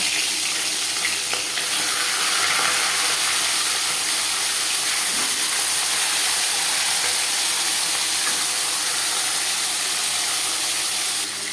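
Salted, turmeric-coated rohu fish head frying in a few spoonfuls of hot refined oil, a steady dense sizzle and crackle that stays loud and even throughout with no talking.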